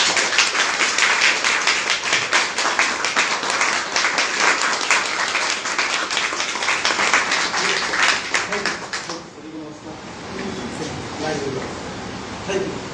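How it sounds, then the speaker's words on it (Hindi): Audience at a business training program breaking into loud, sustained applause for several seconds, then fading into lighter scattered clapping with some background murmur. "तालियां जोरदार।"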